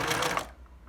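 A sewing machine locks its stitch at the end of a quilt binding: a brief, rapid mechanical whir that cuts off after half a second, leaving a quiet hum.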